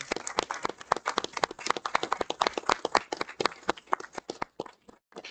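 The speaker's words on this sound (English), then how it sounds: "Can we give them another round of applause?" Small audience applause at a school committee meeting, distinct close-up individual claps in a quick irregular patter that thins out and stops near the end.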